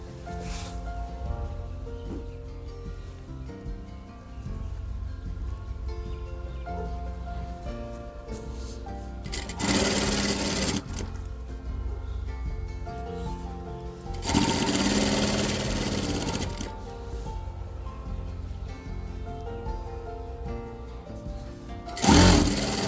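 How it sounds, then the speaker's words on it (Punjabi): A sewing machine stitches a decorative work patch onto the cuff of a salwar, whirring steadily and loudly at close range for most of the stretch, with a few brief pauses and louder bursts between runs. "ਜਿੱਥੇ ਹੁਣ ਮੈਂ ਆ ਸਲਾਈ ਲਾ ਰਹੀ ਆ"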